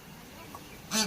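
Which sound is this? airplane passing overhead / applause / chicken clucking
chicken clucking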